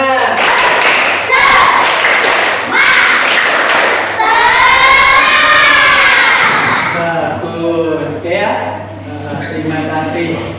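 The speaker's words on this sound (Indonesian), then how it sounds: "Sekali lagi, tepuk semangat." A classroom of schoolchildren performs a rhythmic spirit clap, bursts of group clapping and thumps in patterned beats alongside children chanting and a teacher's voice.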